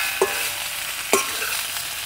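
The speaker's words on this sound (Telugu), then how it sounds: "ఇప్పుడు పిసికి పెట్టుకున్న బంగాళదుంప వేసుకుని చక్కగా ఈ మసాలా అంతా ముక్కలకి పట్టుకునే వరకు బాగా కలుపుదాం." Mashed potato stirred through masala in a pan on a farm cooking setup, a soft continuous fry hiss broken by two sharp scrapes of a spoon against the pan.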